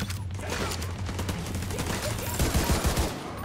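Wraith auto gun turret blasting away in a PC shooter, a steady dense stream of rapid gunfire with mechanical clatter running the whole time, loud and close.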